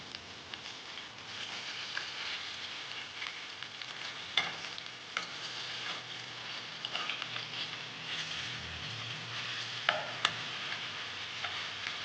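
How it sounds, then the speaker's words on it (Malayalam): Chicken pieces frying in hot oil, a steady close crackle and sizzle with scattered sharp pops and spatters running throughout, no voices. "എണ്ണ ചൂടാകുമ്പോൾ ഓരോ പീസുകളും നമ്മൾ ഇട്ട് കൊടുക്കുക"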